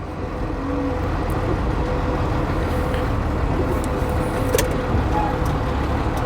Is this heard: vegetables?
no